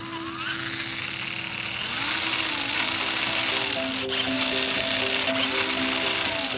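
An MN86K RC car's motor running smoothly, a close, continuous high-pitched mechanical whine with gear-like ratcheting that rises and wavers slightly in pitch, with no voices.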